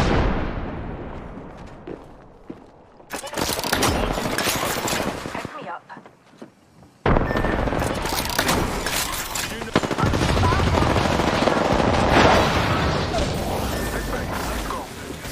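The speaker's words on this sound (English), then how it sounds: "Stand back, knuckle cluster's firing." Fuse's knuckle cluster firing in Apex Legends, a loud burst of rapid explosive bangs that swells, drops out briefly, then returns as a dense continuous barrage with clattering impacts.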